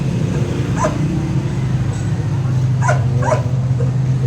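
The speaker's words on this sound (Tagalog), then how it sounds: "Ayun na naman po si Zoe o tumatahol." Dog barking in a few sharp, close yips, two quick ones near the end, over a steady low hum.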